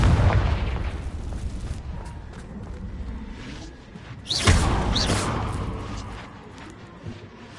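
A Confringo blasting spell explodes in Hogwarts Legacy, a loud booming burst with rumbling fallout that decays over several seconds, followed by a second sharp blast and fading debris.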